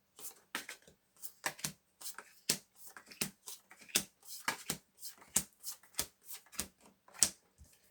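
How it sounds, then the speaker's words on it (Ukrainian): Tarot cards are handled and shuffled with crisp, irregular snaps and flicks, quiet and close, with no talking. "відкриваємо карти, шукаємо нашого блазня"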